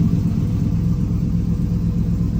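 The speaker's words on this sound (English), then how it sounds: "Let's fire it up and try it again." A turbocharged 6-litre engine idling after starting, a steady low rumble that is loud and close, with no talk over it.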